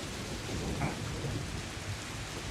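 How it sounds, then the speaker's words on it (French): Thunderstorm sound effect with steady, dense rain and low rumbling thunder rolling underneath, a continuous wash of noise at moderate loudness with no voices. "vous voyez en fait que vous êtes en train d'entrer dans un orage"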